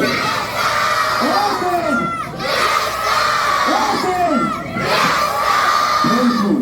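A large crowd of children shouts a loud reply in unison, sustained cheering and yelling that swells in waves, dips briefly, and rises again in a big hall or school setting.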